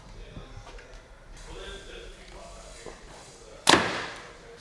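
A single sharp arrow release from a 2023 PSE Fortis compound bow at 90% let-off, a loud broadband snap and thud near the end, following quieter handling noise and low background sounds.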